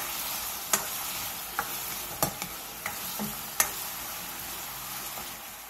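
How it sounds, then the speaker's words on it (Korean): Cheongyang chili peppers stir-fried in a pan of reduced broth give a soft, continuous sizzle, with a handful of sharp utensil clicks and scrapes against the pan scattered through it. "국물이 자작해졌으면 청양고추를 넣고 1분 정도 가볍게 볶아주세요."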